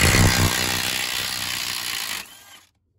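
A Harbor Freight Hercules impact wrench hammers loudly on a rusty bolt at the rear of a junkyard vehicle, a close, harsh rattling burst lasting over two seconds before it cuts off into silence.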